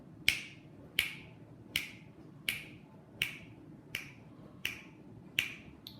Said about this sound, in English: So let's clap this simple rhythm after 4.